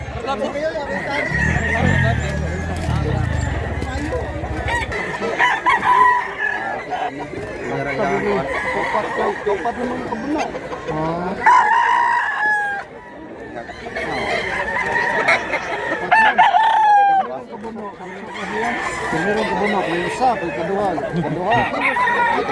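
Roosters crow repeatedly over steady clucking from a yard of fighting cocks in Cebu, loud and close, with a background babble of people talking.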